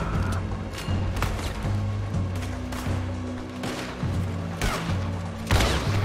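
Gunshots in Red Dead Redemption 2, several sharp reports spaced a second or so apart over a steady low background hum, fairly close and distinct.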